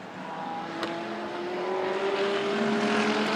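Race cars, including a McLaren, roar around the circuit during the 24 Hours of Spa, a steady engine drone building slightly in loudness as cars pass at a moderate distance.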